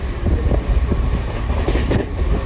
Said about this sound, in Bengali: দেখো এইমাত্র ট্রেনটা ছাড়লো জাস্ট হাওড়া স্টেশন থেকে ট্রেনটা ছাড়ছে